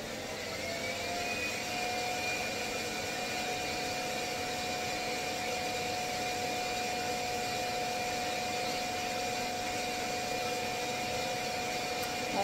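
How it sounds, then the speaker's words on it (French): Loud continuous vacuum whoosh with a steady whine, roaring evenly throughout without pause, like a vacuum's self-emptying station running nearby. "Je pense que mon aspirateur va s'auto-vider"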